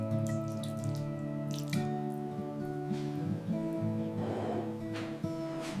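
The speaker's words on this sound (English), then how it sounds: "Washing the meat gently with warm water." Warm tap water runs over pork as it is rinsed in a kitchen sink, a soft, close trickle with light splashes and drips over a steady low hum.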